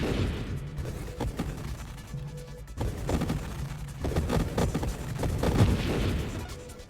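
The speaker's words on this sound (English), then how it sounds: "I now shoot 2 hilariously large grenades" Heavy booming grenade shots fire from a ship in the Nova Drift space shooter game, coming as repeated loud thumps and bursts over a busy electronic game soundtrack.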